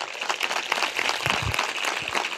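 A church congregation at a Christian sermon claps together, producing a continuous, dense patter of applause that holds steady for a couple of seconds.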